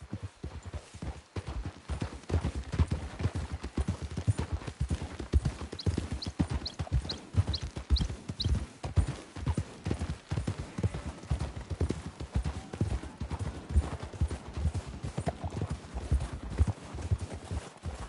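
Steady clip-clop of horse hooves walking on hard ground in a video game, a continuous irregular rhythm from several animals, close by, with a faint whinny.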